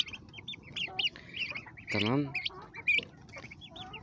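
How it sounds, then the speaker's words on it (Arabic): Farmyard chickens cluck in short bursts and a young rooster lets out a brief, hoarse crow partway through, close by, with someone saying a single word. "الواد ديك ده اهو هيبقى دمه حامي"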